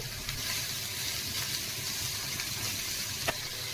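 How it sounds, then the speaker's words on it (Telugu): Ridge gourd peel frying in a pan with a spoonful of oil and green chilies, a soft continuous sizzle with an occasional faint tap, fairly quiet and steady. "ఇప్పుడు బీరకాయ తొక్కేసుకున్నాం ఈ పచ్చివాసన పోయే వరకు వేయించుకోవాలి"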